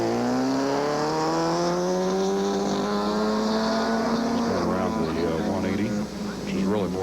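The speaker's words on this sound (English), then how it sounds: "This is Brent Johnson getting that Mazda moving." Mazda race car working hard around an autocross course in 1985, its engine note rising and sweeping in pitch as it accelerates and then backs off, loud and close, with a commentator talking over it throughout.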